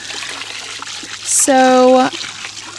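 Water pours steadily into a container being filled to soak seashells collected while shelling in the Florida Keys. A short, clear gurgling pour rises in pitch over a quiet background.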